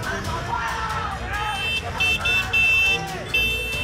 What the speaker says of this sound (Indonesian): mereka juga membunyikan klakson sepeda motor untuk menambah suasana menjadi semakin panas